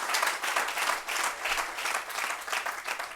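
Assembly members in a legislative hall applaud at a poets' gathering, loud, close, full clapping that swells and dips in rolling waves throughout.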